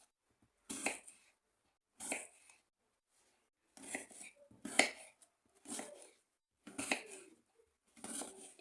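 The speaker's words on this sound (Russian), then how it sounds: "И вместе с кожурой нарезаю на небольшие кусочки." A knife chopping an unpeeled apple into small pieces on a board, seven crisp separate cutting bursts spaced about a second apart with quiet gaps between them.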